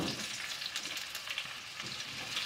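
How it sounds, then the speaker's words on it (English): Onions frying in a pan for vegetable kurma, a steady close sizzle and crackle with faint stirring throughout. "fry these onions until they turn brown in color."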